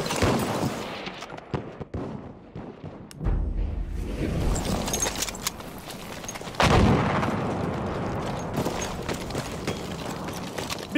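Gunfire crackles through a video game battle, dense bursts of rifle or machine gun shots in rapid runs, with heavier booming blasts landing near the middle and toward the end, loud and continuous throughout.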